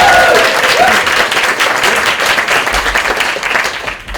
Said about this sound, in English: Can we have a big preemptory round of applause for the LIF?